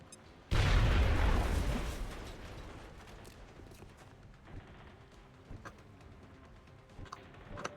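A grenade goes off in XCOM Long War with a loud, booming blast that rolls out and fades over about two seconds, followed by quieter scattered clicks and ticks.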